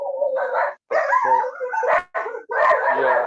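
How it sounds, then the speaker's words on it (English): Several dogs bark and yip in the background, bursts of barking coming in quick clusters with brief gaps, moderately loud and fairly near. "there are dogs barking in the background"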